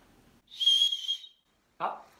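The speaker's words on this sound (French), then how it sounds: "vous pouvez également compter sur un sifflet" A single sharp, high blast from a safety whistle on an e-bike battery bag sounds close up, followed after a brief silence by a short breathy puff.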